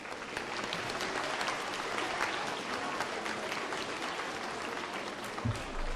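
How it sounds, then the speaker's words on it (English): An audience claps steadily and densely at a junior high school academic awards program, a sustained even wash of applause, with a brief low thump near the end. "let's give a round of applause to your families for being here"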